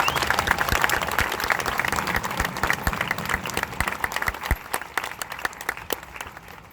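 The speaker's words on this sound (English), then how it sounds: "How about a round of applause for you, because you deserve that." A crowd applauds young men at a military graduation, dense steady clapping that thins out and fades over several seconds, with scattered individual claps standing out near the end.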